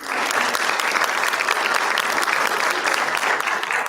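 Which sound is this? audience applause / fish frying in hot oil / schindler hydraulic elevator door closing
audience applause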